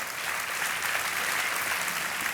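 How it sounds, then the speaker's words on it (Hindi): A game-show studio audience on Kaun Banega Crorepati applauds in a thick, continuous roar of clapping that stays loud and even from start to finish. "तालियां बजते रहें इनके लिए।"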